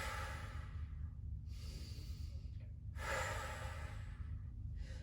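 Slow, deep breaths drawn and released during a standing hamstring stretch with an upper-body reach, close to the mic over a steady low hum. Several long airy breaths rise and fall, with one stronger exhale near the middle.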